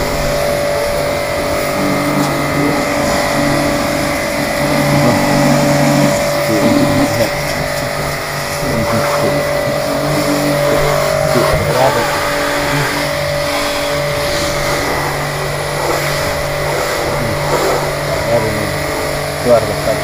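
A car engine on a car-wash site runs steadily and loudly with repeated revving, while people talk nearby throughout.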